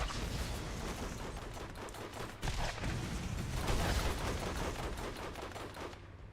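Enemy gunfire in the video game Borderlands, continuous rapid shooting and bursts of automatic fire under a busy, fairly loud game mix.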